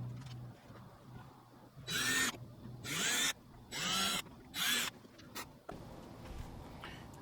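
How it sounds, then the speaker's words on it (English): A cordless drill bores a guide hole for a screw in short bursts, four whining runs of about a second each plus a brief blip, with quiet pauses between. "Normally I like to have a guide drilled into the hole to make it easier for the screw."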